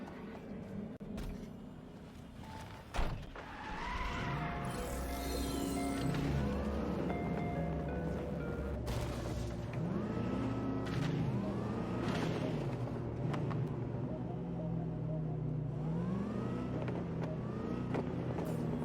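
A car driven in the video game Cyberpunk 2077 produces a continuous engine hum with rising and falling pitch sweeps as it accelerates and shifts, plus a sharp bump near the start and a steady rushing noise underneath.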